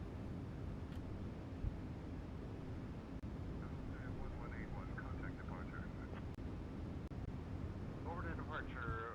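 An airliner in Microsoft Flight Simulator 2020 climbs after takeoff, a steady broadband engine roar and rushing air that holds throughout, with brief faint tones and a voice murmuring low under the noise.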